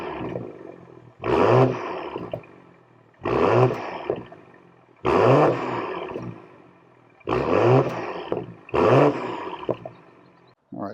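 A 2025 BMW M340i xDrive exhaust, recorded from outside the car, revs hard in five loud, rasping bursts about two seconds apart, each dropping back to a steady idle rumble between them.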